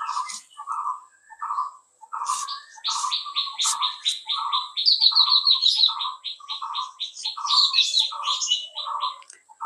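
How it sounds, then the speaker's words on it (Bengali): Birds chirp and call outdoors in a steady series of bright repeated notes, one bird's regular two-part call overlapping a faster, higher trilling chatter, fairly close and clear with no talking. "পাখিদের ডাক শুনেছেন?"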